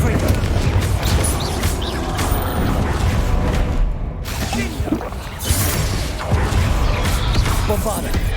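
Magic spell blasts crackle and crash repeatedly in the Hogwarts Legacy video game, dense combat effects with booming impacts and shattering debris layered over background music and voices.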